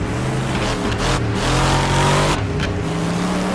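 Car engine racing in the driving game Wreckfest, loud and continuous with revving that rises and falls, gear shifts and brief dips as the car takes a corner.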